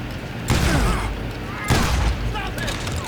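Two heavy shotgun blasts boom in Call of Juarez: Gunslinger, about a second apart, each followed by a ringing tail and clattering mechanism, with a player voice talking alongside.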